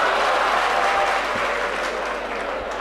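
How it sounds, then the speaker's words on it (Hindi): Dense, even clapping fills the hall at a mushaira poetry gathering in Bhiwandi, a loud crowd applauding without pause for the whole stretch. "समझ में आ गई हो तो ताली बजा दीजिए।"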